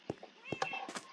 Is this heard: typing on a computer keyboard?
no